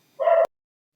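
A single short dog bark at night near Rameswaram, heard close and fairly loud before it cuts off abruptly.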